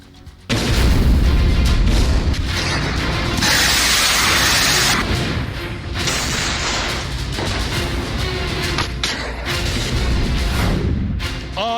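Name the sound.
explosions in war footage, Russia-Ukraine war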